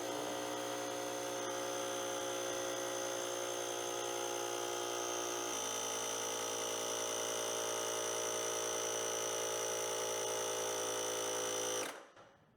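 An air compressor runs steadily as it fills a homemade horn's tank up to 80 psi, a loud, sustained motor drone with a bright whine that holds evenly for about twelve seconds and then cuts off abruptly.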